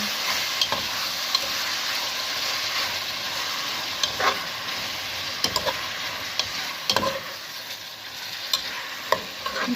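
Tomatoes frying in a pan give a continuous close sizzle, broken by sharp scrapes and clicks of stirring at irregular intervals.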